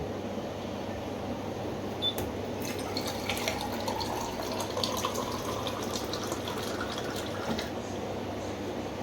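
Water poured into a pan of hot oil and potatoes while cooking an Agri Koli sour fish fry, a steady close splashing trickle over kitchen background noise with a few faint clicks.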